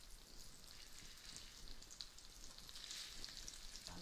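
Prawns frying in hot oil for Sichuan salt and pepper prawns, a steady close sizzle and crackle of bubbling oil that holds throughout without talk.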